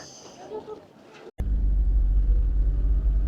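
An electric sightseeing shuttle with doors and glass windows drives along a scenic mountain road in western Sichuan. A faint voice and quiet rumble are followed by a brief cutoff, then a loud, steady low road and motor rumble fills the rest.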